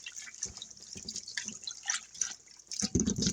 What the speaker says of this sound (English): So you're gonna wash them with cold water.